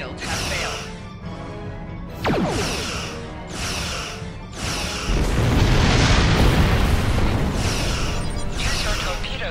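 Star Trek space combat game: zapping laser shots and a sweeping blast give way to a heavy, rumbling run of explosions that grows louder and stays dense, with voices mixed in among the effects.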